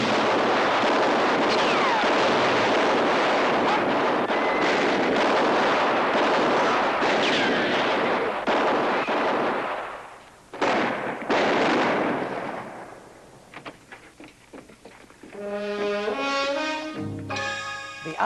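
Gunfire in a film scene of the OK Corral gunfight: loud sharp shots and booming reports with echoing rumble, fading out before music rises at the end.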